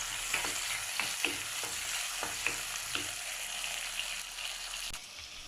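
Onion and curry leaves sauté in a pan for a South Indian raw banana kara kuzhambu, giving a steady close sizzle with a few sharp spatula scrapes and taps at irregular intervals and no voices.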